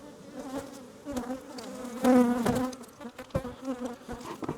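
Honeybees buzz around an open, aggressive hive during a queen-cell inspection, a dense steady hum with individual bees droning close past the microphone and swelling louder midway through.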